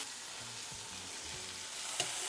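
Pork shoulder searing in a pan alongside leeks and onions, a steady close sizzle of frying with a brief sharper crackle near the end, no talking.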